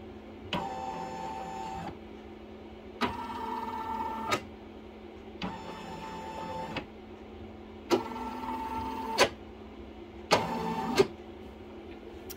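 A single-needle embroidery machine traces a design outline on fabric, its motor whirring in five short mechanical runs separated by pauses, close and fairly quiet.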